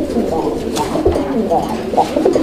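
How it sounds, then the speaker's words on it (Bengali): A pair of Bombay pigeons at a seller's coop coo repeatedly in soft, rolling, overlapping calls, with murmuring voices faintly in the background. "এই যে দেখেন দর্শক কবুতর"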